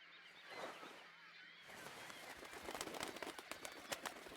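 Cuckoos eating Sauvignon grapes in the video game Syberia: soft, faint bird cooing gives way to a busy stream of pecking and crackling clicks.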